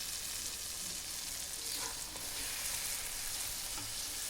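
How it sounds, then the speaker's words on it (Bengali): Ground spice paste and turmeric powder fry in oil in a pan for tilapia tel jhal, a steady broadband sizzle running throughout at even loudness, with a few faint scrapes and no talking. "বেটে রাখা মশলাগুলো দিয়ে দেব। অল্প হলুদ গুঁড়ো দেব,"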